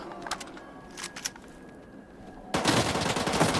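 Automatic rifle fire in the shooter game S.T.A.L.K.E.R. 2 erupts as a loud, dense sustained burst after a quieter stretch of scattered clicks and small game sounds, close and harsh, with no talk.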